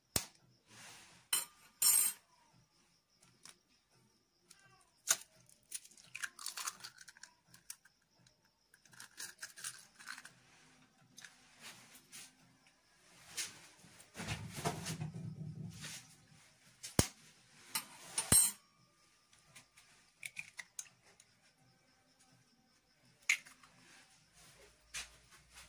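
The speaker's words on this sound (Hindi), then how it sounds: "इसमें हमने 3 एग्स लिए हैं जिसको हम अच्छे से मिक्स करेंगे।" Three eggs are mixed in a bowl for an egg paratha, giving scattered clinks and taps of a utensil against the bowl, with irregular bursts and pauses and a louder rumbling stretch midway.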